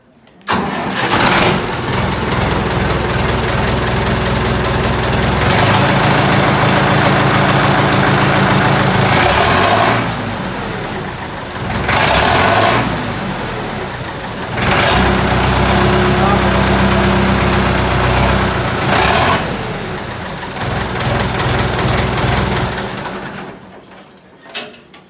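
A modified Sonalika 750 DI tractor engine with a new silencer starts and idles loudly nearby, its heavy rumble swelling in repeated surges between steadier stretches, with occasional voices.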